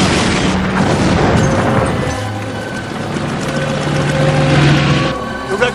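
A heavy explosion from a direct hit in an action movie booms and rumbles for several seconds, a loud sustained blast with a faint voice near the end.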